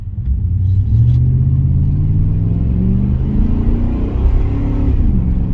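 A 2003 Chevy Suburban Z71 4x4 pulls away from a green light, its engine rumbling and rising steadily in pitch as it accelerates, heard loud and close from inside the cab.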